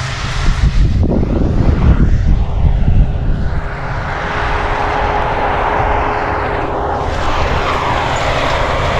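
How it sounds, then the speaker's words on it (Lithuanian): A field roller works across a farm field with a low, heavy rumble that is loudest and roughest in the first few seconds, then settles into a steady drone with wind noise. "Volas dirba savo darbą."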